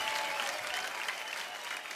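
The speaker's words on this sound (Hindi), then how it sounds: "बहुत बढ़िया, बहुत जोरदार हो जाए तालियां एक बार यार" Studio audience applause on The Kapil Sharma Show welcoming guests, a continuous dense wash of clapping at moderate level, even and sustained with no speech over it.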